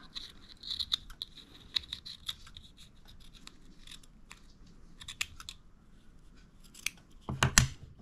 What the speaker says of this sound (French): Et avec mon ciseau, je vais couper le surplus.